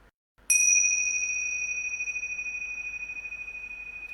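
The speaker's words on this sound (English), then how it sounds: "Ringing the bells for our awakening, each and every one of us." A single bell struck once after a brief silence, ringing out bright and clear, then sustaining a long pure shimmering tone that slowly fades with a gentle pulsing beat, alone and close.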